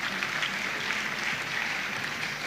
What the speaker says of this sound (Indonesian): Boleh kita berikan tepuk tangan bagi Tuhan Yesus.